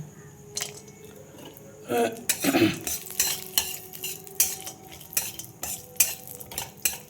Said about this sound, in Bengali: দেখো কিছু ড্রাই ফ্রুট আমি ভেজে নিচ্ছি।